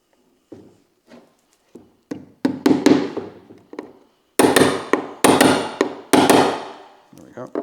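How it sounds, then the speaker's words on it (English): A hammer tapping track pins into model railway sleepers, a run of sharp taps that begin light and spaced, then grow into louder, quicker bursts of strikes, close up with no talk. "tap it in gently. That's the pin in"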